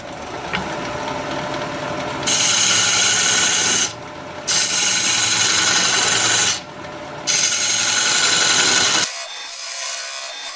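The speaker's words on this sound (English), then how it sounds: "Now I'll use my 1/2-inch bowl gouge to make the tenon." A half-inch bowl gouge cuts into a maple burl spinning on a wood lathe, giving a steady, loud scraping rasp that swells in long bursts with brief quieter gaps, then drops to a thinner hiss near the end.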